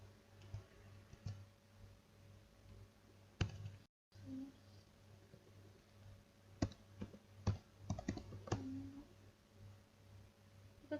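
Keystrokes on a computer keyboard while a wget command is typed during a Nextcloud server setup, a quiet scatter of separate clicks in short bursts over a low steady hum, with a brief silent gap.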